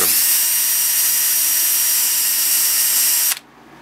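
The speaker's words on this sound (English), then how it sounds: "So I might as well just drill them out while you're here." A small power drill bores holes with a 1/16 inch bit while building a Simplecopter Mini T, a steady high-pitched whine that holds for about three seconds, then cuts off abruptly.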